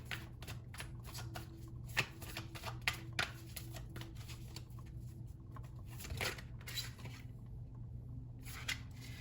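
Tarot cards shuffled and drawn in a rapid run of crisp riffling flicks and soft slaps, close and fairly quiet, with a steady low hum beneath and no talking.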